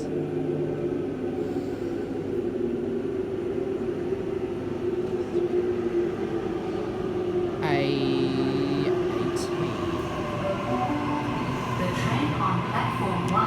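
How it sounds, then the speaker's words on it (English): A Sydney Waratah electric train pulls away from platform 1 at Epping station, a steady low rumble and hum of motors building as it departs, with announcements and station ambience running underneath throughout. "Waratah departing platform number 1."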